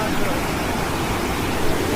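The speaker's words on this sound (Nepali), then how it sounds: "यहाँ त खोला त ठुलो रहेछ त।" The Kathe Khola river in Baglung, Nepal, rushing loudly and steadily with dense broadband water noise, close by and continuous, with no clear voices.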